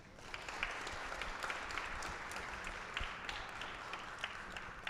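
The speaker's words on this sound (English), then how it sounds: "Please give a round of applause to the teachers." A round of applause for teachers at a Day of AI school event, a soft, distant wash of many hands clapping, steady and even with a few sharper claps poking through.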